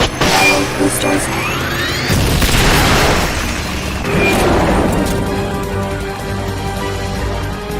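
Rocket boosters firing in Metal Gear Solid: Peace Walker, a loud roaring blast with rising whooshes and rumbling booms that swell and fade over several seconds, with voices speaking over it.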